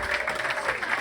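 Comedy club audience at the Red Room Comedy Club applauding a stand-up comic, a steady dense wash of clapping that holds level for the whole second with no pauses.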